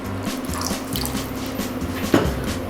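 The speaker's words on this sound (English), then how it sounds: "We need to add some water to this" Water pouring into reheating gravy in a kadai, a steady liquid splash and trickle running throughout with a brief louder splash near the end, no talk.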